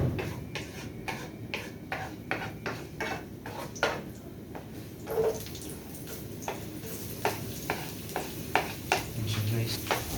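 Garlic, onion and soy-seasoned ingredients for ginataang mongo sauté in a hot pan, with a soft sizzle under repeated scraping and tapping of a utensil against the pan.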